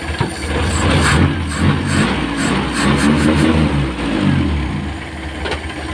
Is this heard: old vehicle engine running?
yes